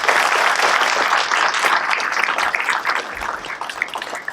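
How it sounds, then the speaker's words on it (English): Audience applauding at a school event, a steady wash of many hands clapping that stays loud and even throughout, with no talk over it. "Let's give them one more round of applause."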